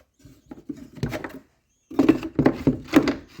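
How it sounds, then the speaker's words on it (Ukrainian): Wooden frames set one after another into a beehive nucleus box, giving a few soft knocks and scraping taps, a short burst, then a pause, then a denser run of close clunks. "Ставимо рамки. Отак."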